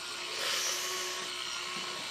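An automatic pot stirrer turns through thick soup over high heat, making a steady, close motor whir with a faint humming tone that holds for the whole stretch without voices.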